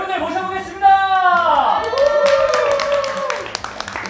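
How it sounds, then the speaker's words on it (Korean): Audience applause at a musical curtain call in a Korean theater, welcoming the actors of the Heart Signal musical. Clapping swells beneath a tonal sung or musical voice, then carries on as a dense patter of hands. "큰 박수 한 송으로 배우분들 모셔보겠습니다"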